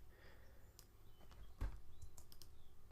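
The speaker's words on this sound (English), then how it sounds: "I'm going to keep using my keyboard shortcuts." Computer keyboard keys tapped in a few sparse, quick clicks while entering shortcuts in Adobe Fireworks, close and fairly quiet with low room hum between presses.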